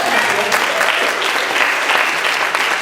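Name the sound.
audience applause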